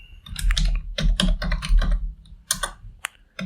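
Rapid, close clicks of a computer keyboard as someone types a search into a browser, irregular bursts of keystrokes with short pauses between them.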